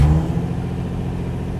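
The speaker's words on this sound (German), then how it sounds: "So, ich starte jetzt mal den Wagen." Nissan 350Z HR engine just after starting, warm, settling into an unusually high idle: a steady mid-pitched hum with a brief louder burst at the very start, heard close and alone.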